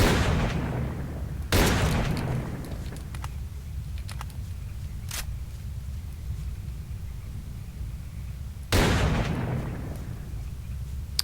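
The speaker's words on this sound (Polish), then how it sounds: "to już jest piąty strzał. Na sześć strzałów z tej strzelby" Two heavy booming shotgun shots in the video game S.T.A.L.K.E.R.: Call of Pripyat (Misery mod) ring out roughly seven seconds apart over a steady low rumble, with a few faint clicks between them.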